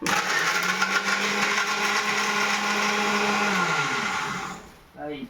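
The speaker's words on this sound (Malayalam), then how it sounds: "നമ്മുടെ മിക്സി പ്രസ്റ്റീജിൻ്റെ കൊണ്ട് അധികം സമയം എടുത്തില്ല ഗൈസ്." A Prestige mixer grinder whirs loudly and steadily for several seconds blending jaggery for a homemade protein shake, then winds down and stops, followed by a brief voice.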